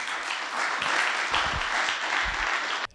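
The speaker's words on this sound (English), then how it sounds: "Let's give him a hand of applause." Audience applause after a pavement preservation conference presentation, a dense steady wash of many hands clapping that fills the whole stretch and cuts off abruptly at the end.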